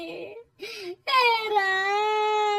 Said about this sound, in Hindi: माँ जी की रोने की आवाज सुनकर